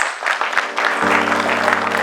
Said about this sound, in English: Can we all give it a round of applause?